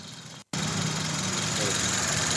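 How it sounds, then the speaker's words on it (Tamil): A low-kilometre, latest-model Maruti Suzuki Baleno engine idles with a steady, even hum close by, after a short dropout near the start. "இன்ஜினுடைய சவுண்டை மட்டும் அப்படியே காட்டுறேன் பாருங்கள்."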